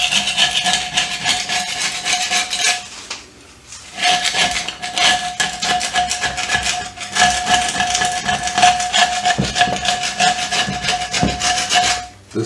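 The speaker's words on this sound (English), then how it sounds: "I'm just going to scrape that off before I try and turn it over and get this off" Scraping the rough upper edge of a handmade concrete bowl, a steady, loud, close rasping rub that runs in repeated strokes, pausing briefly partway through before carrying on.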